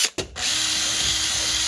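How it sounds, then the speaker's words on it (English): Power drill with blunt bits enlarging holes up to 1/4 inch, half a millimetre at a time, on the underside of a solar panel: a brief start and stop, then a loud, steady high whine running continuously, close up with no talk. "Going up by 1/2 mil at a time because all my drill bits are so blunt."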